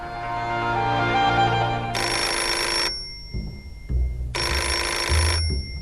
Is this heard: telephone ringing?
yes